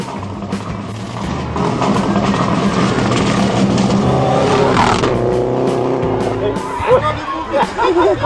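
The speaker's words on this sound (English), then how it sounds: "a racing car appears behind you at breakneck speed while you are driving calmly down the road" A race car engine roars steadily at high speed on a motorsport track, loud and continuous with possible tire noise, while voices talk over it throughout.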